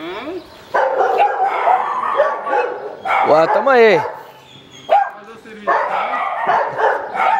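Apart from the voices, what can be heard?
dogs barking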